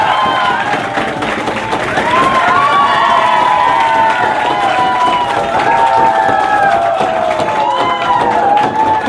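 A school crowd cheers and shouts loudly for a teacher, a dense, continuous roar of many voices with bright children's cries and some clapping mixed in, steady throughout.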